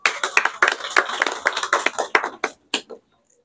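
At an entrepreneurship training session, a small group claps in uneven, distinct bursts, sharp and fairly close, thinning out to a few last claps before falling silent near the end.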